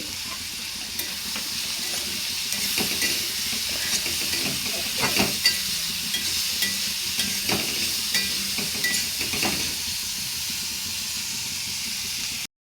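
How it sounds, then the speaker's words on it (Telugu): Onions and cumin seeds fry in a pan with a continuous close sizzle, broken by occasional scraping stirs and small crackling bursts, no voices. "ఇవి మగ్గుతుండగానే జీలకర్ర కూడా ఇందులోనే యాడ్ చేయాలి"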